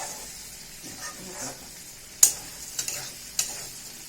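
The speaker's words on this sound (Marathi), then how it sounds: "मिरची बऱ्यापैकी तळल्या गेली ना" Green chillies fry in hot oil with a soft continuous sizzle, and a few sharp spatula clicks and scrapes stand out near the end. No voices are heard.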